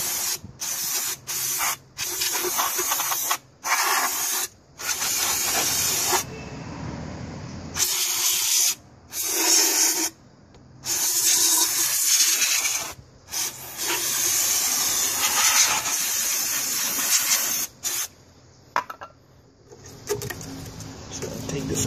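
Repeated bursts of aerosol cleaner hiss onto a greasy Nissan VG33E rocker cover, each spray loud and close, separated by short pauses and brief gaps of quiet.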